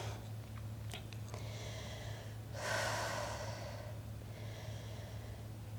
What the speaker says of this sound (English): Try and slow those breaths down.